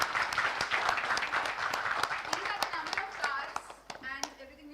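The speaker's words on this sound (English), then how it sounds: "Huge round of applause to everyone" A sparse audience at a startup expo and conclave gives a round of applause, scattered distinct claps in a quiet room fading out after about four seconds, with a voice speaking faintly beneath.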